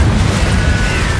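Confringo fire spell detonating in Hogwarts Legacy, a dense, booming blast with low rumble that fills the moment continuously at steady loudness.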